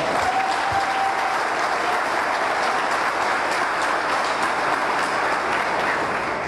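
Loud, sustained applause from the audience at a solemn session for a swearing-in ceremony, a thick unbroken wash of clapping that holds steady throughout with no voices above it.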